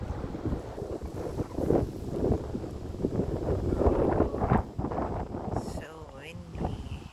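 Strong wind buffets the microphone on an outing fishing by the water, rumbling in uneven gusts while a person talks under the noise.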